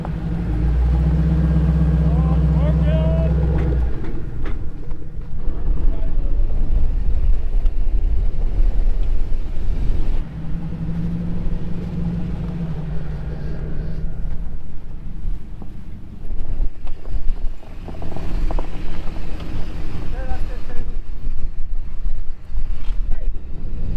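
A Ford Raptor truck drives through deep snow during a major storm, its steady engine rumble and tire noise continuous and close, with wind buffeting the microphone throughout.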